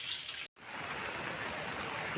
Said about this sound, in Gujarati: વરસાદ અટાણે ફૂલમ ફૂલ ચાલુ છે